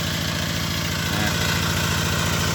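A 30-year-old Kubota ET80 single-cylinder diesel engine drives a water pump at near full throttle, a steady close, loud rhythmic chugging with a fast regular beat and mechanical rattle, heard alone.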